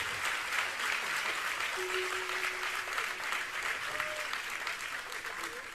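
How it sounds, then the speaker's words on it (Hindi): Audience applause at a religious sermon (a Jain acharya's discourse in Shirpur, Washim, Maharashtra), a steady wash of many hands clapping that runs unbroken at moderate level, with a few faint voices or tones underneath. "अपने कार्यकर्ता भाइयों के मान में जोरदार तालियां बजाकर उनका सम्मान करें"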